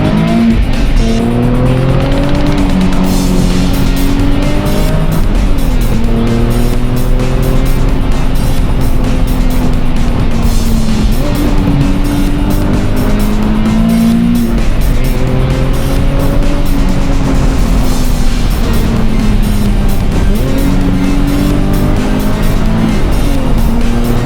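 A Nissan 370Z drifts through corners on a mountain road, its engine revving and rising in pitch while tires squeal in long sustained bursts, loud and close, with no talk over it.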